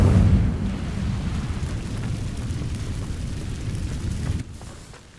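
Incendio fire spell bursting into flame on dry vines in Hogwarts Legacy, a loud rumbling whoosh of fire that starts strongest, holds as a dense crackling roar and drops off sharply near the end.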